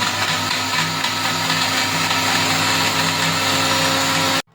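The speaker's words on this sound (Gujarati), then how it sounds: "હવે આપણે આ બ્લેન્ડ કરી લઈશું." Kitchen mixer blender whirring steadily as it blends a dry fruit milkshake with milk, rose syrup and ice, a loud continuous motor drone that cuts off abruptly at the end.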